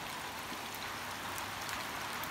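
Steady rain falls in the early morning before dawn prayers, a continuous broadband hiss of drops with scattered close patters, even and unbroken throughout with no voices.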